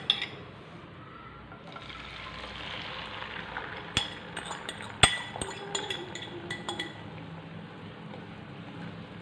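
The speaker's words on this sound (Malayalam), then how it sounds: "ഇതിലേക്ക് നമുക്ക് നമ്മളിവിടെ അടിച്ച് വെച്ചിട്ടുള്ള മുട്ടയുടെ മിക്സ് ചേർത്ത് കൊടുക്കാം." Beaten egg mixture poured into a pan with coconut oil makes a soft, close liquid pour and gush, followed by a few light clinks of utensils against the pan.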